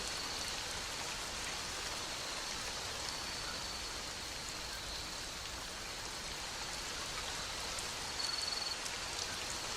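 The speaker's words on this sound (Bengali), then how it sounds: "বৃষ্টি কমতে শুরু করেছে" Rain falls steadily as a soft, even wash of noise with no distinct drops standing out, fairly faint and uninterrupted, without any talking.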